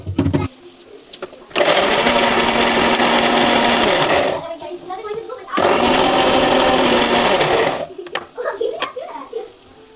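Mixer grinder blending green chillies and garlic in a home kitchen, running in two loud bursts of roughly three seconds each with a short pause between, then brief clatter and a voice after it stops.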